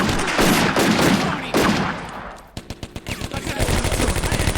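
Machine gun fire crackles in the World War II strategy game Combat Mission: Afrika Korps, dense loud bursts followed by a rapid string of evenly spaced sharp shots.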